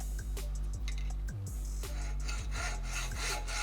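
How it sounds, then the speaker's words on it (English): A hacksaw works back and forth on a Minn Kota trolling motor's stabilizing arm, close and steady rasping strokes in a regular rhythm with scraping clicks at each turn. "this is where the hacksaw comes into play. You wanna cut off your stabilizing arm right at that mark"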